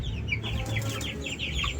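Free-range backyard chickens cluck in a steady run of short, nasal calls close by, layered over a low farmyard hum with no voices.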